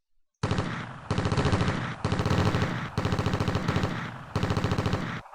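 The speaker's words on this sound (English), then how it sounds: "This HMG, well, one of the HMGs are really doing some damage" Heavy machine gun fire in the World War 2 strategy game Steel Panthers, set in the Philippines, with five loud, rapid bursts of automatic shots separated by brief gaps, no talking.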